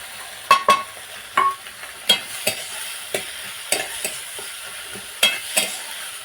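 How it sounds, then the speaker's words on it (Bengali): Ginger garlic paste, tomato and onion sauté in a pan with a soft background sizzle, broken by a dozen sharp scraping stirs of a spoon in an uneven rhythm, close and without talk. "আদা রসুন টমেটো পেঁয়াজ সব এইভাবে আমি কিছুক্ষণ কষিয়ে নিচ্ছি"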